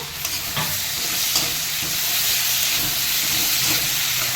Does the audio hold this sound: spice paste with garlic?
yes